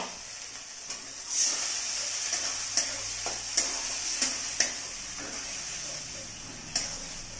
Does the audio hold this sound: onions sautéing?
yes